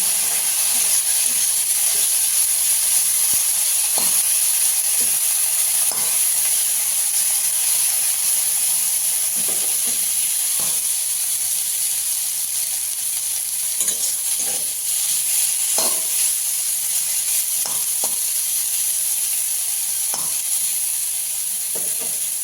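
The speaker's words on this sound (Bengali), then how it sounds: "সেই জলটা শুকিয়ে ভালো করে একটু ভেজে নেবো।" Steady sizzling of pumpkin leaves frying in a pan, with a continuous hiss and occasional soft stirring clicks, no voices.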